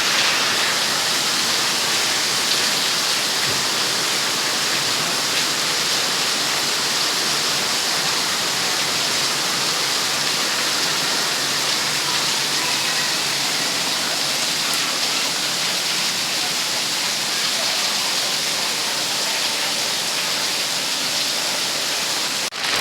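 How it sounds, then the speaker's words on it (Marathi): Heavy, steady rain pours down over a village in a dense, unbroken roar that stays loud and constant throughout, with no voices. "बघा मगाशी जो पाऊस चालू झाला आहे 3:30-4च्या दरम्यान, तो अजून पण चालूच आहे. मस्त पडतोय."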